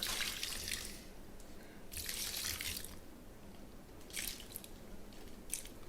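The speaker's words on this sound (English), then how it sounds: "Go ahead and add some of the water." Water is poured in bursts into a seasoned ground pork sausage mixture, giving several hissy splashing pours separated by pauses, moderately quiet and with no talk over them.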